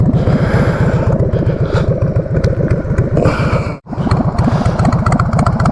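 Harley-Davidson Sportster idling through a short chopped grass burner exhaust, a loud, close, steady lumpy rumble with rapid uneven firing pulses that carries on without pause.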